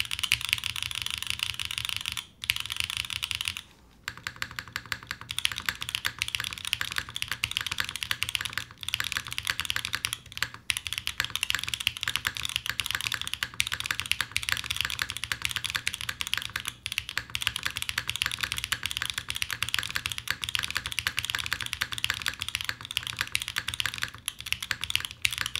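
Steady typing on a mechanical keyboard with lubed Obscura switches, GMK keycaps, a PC top-mount plate and no foam, heard up close as a continuous run of crisp keystrokes with a few brief pauses.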